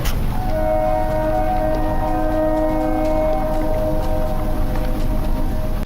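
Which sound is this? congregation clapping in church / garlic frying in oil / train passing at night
train passing at night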